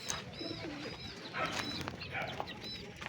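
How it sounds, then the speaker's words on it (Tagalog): Kept pigeons in a loft coo repeatedly in soft, throaty bursts at close range, with a few chirps and light wing flutters and no speech. "Kalapati natin dito."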